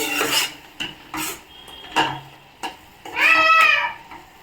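A spoon stirs potato curry with frozen peas in a pan, producing close scraping strokes and metallic clinks in short bursts, with a brief squeaky scrape near the end.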